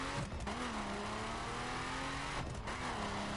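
A car engine in the GTA video game revs loudly and steadily throughout, its pitch wavering and briefly dipping twice, with no talking over it.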